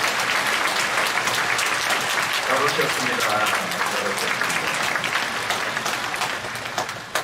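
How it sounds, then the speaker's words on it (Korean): Church congregation applauding during a Friday night worship service, dense steady clapping that fills the room and slowly fades, with a voice speaking over it. "우리 옆에 분을 위해서도 박수 한번 치주세요."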